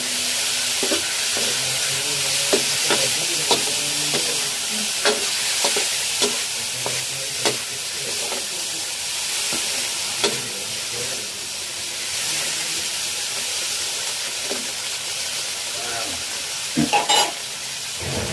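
Shrimp sizzle and fry with ginger in a home cooking pan, a steady close hiss broken by repeated sharp clicks and scrapes of a spatula stirring.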